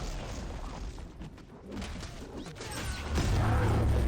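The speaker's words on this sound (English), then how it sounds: "So let's go ahead and use the ultimate ability." An ultimate ability unleashed in the video game Marvel Realm of Champions: a dense run of crashes, booms and whooshing impacts that swells into a heavy, sustained roar over the last second, loud and continuous.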